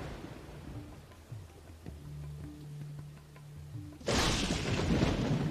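Within the Bronze Age village game Dawn of Man, soft ambient tones and faint rain give way to a sudden, loud crack of thunder that keeps rumbling, with storm noise persisting afterward.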